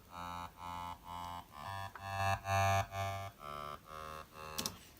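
A single studio synth plays a short sequence of sustained harmonic notes, clean and up close, each note swelling and stopping in a steady stepping rhythm, with a brief percussive tick near the end.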